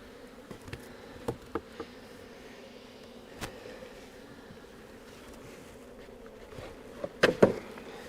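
Honeybees hum in a low, steady drone around an opened hive box in early spring, with faint clicks and knocks at intervals and a short louder rustle near the end.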